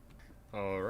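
A sheep in Minecraft gives a single short bleat, a wavering nasal call that starts halfway through and holds to the end, fairly close over quiet background.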